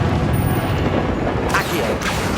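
A Confringo blasting spell explodes in the Hogwarts Legacy video game, with a dense roar of combat noise and a sharper burst of impact midway through.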